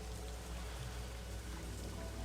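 Steady rain falling in the video game Legacy of Laevus, a dense, even patter of drops continuing without a break, fairly soft and heard alone.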